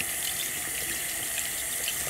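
Room-temperature water runs steadily from a bathroom tap while a makeup sponge is wrung out beneath it, giving a close, continuous hiss of splashing flow.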